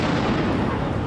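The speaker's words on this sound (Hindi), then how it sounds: "गुस्साए प्रदर्शनकारियों ने पुलिस पर पटाखों से" Firecrackers hurled by protesters at police during a violent street clash burst in a loud, dense, rapid crackle that fills just over a second before cutting off abruptly.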